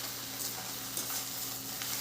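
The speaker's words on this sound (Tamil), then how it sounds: "அந்த வெங்காயம் பச்சை மிளகாலாம் இருக்குல்ல, அதெல்லாம் போட்டு நல்லா வதக்கிடலாம்." Onions and green chillies sauté in a pan for drumstick-leaf poriyal, giving a faint, steady sizzle with a few soft stirring scrapes.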